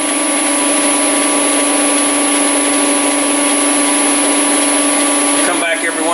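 A PM727 milling machine runs at 1000 RPM to bed in new spindle bearings, a loud steady mechanical whine with constant tonal hum, close up, with a brief disturbance near the end.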